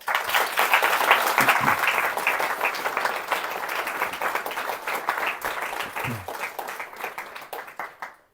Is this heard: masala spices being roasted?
no